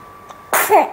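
A single sharp baby sneeze bursts out close by after a faint breath, followed by a short high-pitched vocal squeak.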